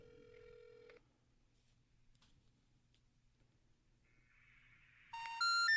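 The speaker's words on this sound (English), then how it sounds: "Oh, it's ringing." A telephone rings once on the line, followed by quiet ticking, then a loud three-tone beep sequence sounds at the end, before a not-in-service number message.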